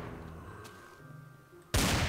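A revolver in a Minecraft mod fires at targets during practice: a quiet stretch of faint tones, then one sudden loud gunshot at the end.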